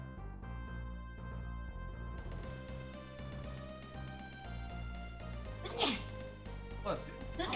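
A person sneezes near the microphone, a short sharp burst followed by a second, softer one over steady video-game music from Golden Sun 2.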